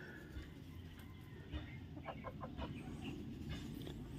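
Backyard chickens and many roosters clucking around a nesting house, with a short run of rhythmic clucks rising over steady outdoor background noise and no speech.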